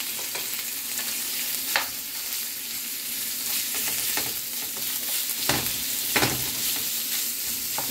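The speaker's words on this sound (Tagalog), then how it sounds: "Igisa natin po ito hanggang maging light brown ang ating pork." Ground pork sizzles steadily in a pan with garlic and onion while making picadillo. Close, continuous frying hiss is broken by several louder scraping strokes of a spatula stirring the meat.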